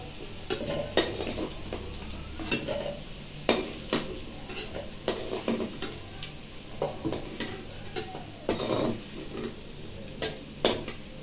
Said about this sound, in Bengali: কচুগুলো ভাজা হয়ে গেছে, এবার তুলে নেব।